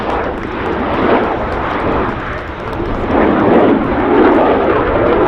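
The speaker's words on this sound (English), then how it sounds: "With indeed a wing wave. With the F-18C Hornet." An F-18C Hornet jet flies a wing-wave pass at the RAF Cosford Airshow with a loud, broad engine roar that swells and ebbs steadily throughout.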